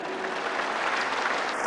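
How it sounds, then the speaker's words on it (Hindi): An audience applauds to welcome a guest at a gathering, with dense, steady clapping from many hands that fills the whole short moment. "एक बार जोरदार अभिनंदन है"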